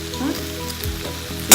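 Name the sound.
liquid of Lao chicken larb cooking down in pan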